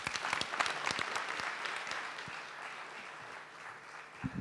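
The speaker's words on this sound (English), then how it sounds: "let's make a round of applause for them" Quiet, distant applause from an audience at a national startup pitching competition, sustained crowd clapping with a few sharper individual claps standing out near the start.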